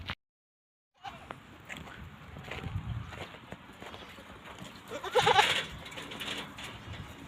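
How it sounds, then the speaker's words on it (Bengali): Goats in a desert bleat now and then over a soft, busy background of shuffling and movement, with one louder cluster of bleats near the end. "এগুলো হলো ছাগল"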